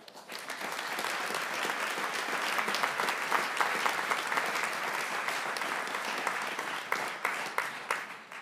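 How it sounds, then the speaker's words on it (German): Audience applause for Ständerat candidates at a political panel in Trafohalle Baden, Aargau: a dense, steady wash of many hands clapping throughout, moderately loud and even, with a few sharper claps near the end. "Herzlichen Applaus."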